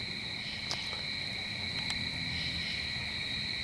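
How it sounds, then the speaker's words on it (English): Crickets and other night insects chirp in a steady, continuous drone at a campsite at night, fairly faint and constant, with a couple of brief soft knocks and no talk. "just listening to the bugs and animals"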